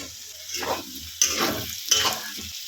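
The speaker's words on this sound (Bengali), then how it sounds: "আলু আর পেঁয়াজটা আর একটুখানি ভাজা হবে আর একটু লাল লাল করে" Potatoes and onions fry in a pan, a close sizzle broken by loud bursts of stirring and scraping in an uneven rhythm, with no talking.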